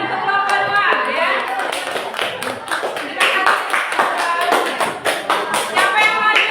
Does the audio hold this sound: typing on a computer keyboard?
no